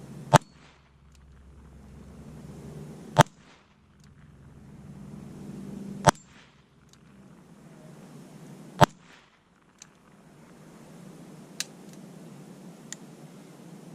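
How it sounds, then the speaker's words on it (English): Shotgun fired at a target outdoors, six sharp loud reports spaced a few seconds apart over low background rumble, the last two fainter. "I'll put one out there with the shotgun."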